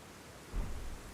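Rain falls in Elden Ring as a steady soft hiss, with a brief low rumble swelling in the middle of the short stretch.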